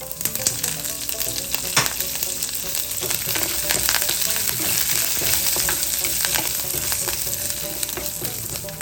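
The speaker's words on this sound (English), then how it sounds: "Now I'm going to add curry leaves and small cut green chili." Curry leaves and small-cut green chili sizzle and crackle in hot oil in a pan, a steady dense frying hiss punctuated by sharp pops and scraping stir clicks throughout, close and fairly loud with no voices.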